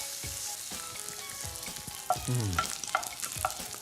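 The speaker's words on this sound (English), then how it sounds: "frying off the mince for colour is so important" Mince frying in a hot pan to build colour, a close sizzle with repeated spatula scrapes and stirring clatter, plus a few metallic clinks of utensil against pan.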